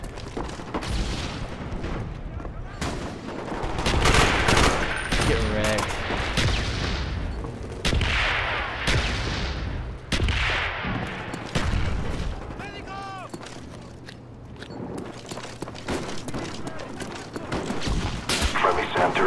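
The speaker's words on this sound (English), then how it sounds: "Friendly mortars inbound." Friendly mortar strikes in Call of Duty: Black Ops land as loud, repeated booming blasts mixed with gunfire in a chaotic battle, with shouted voices in the mix.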